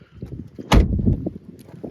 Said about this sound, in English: here's the door thunk that may give you an impression.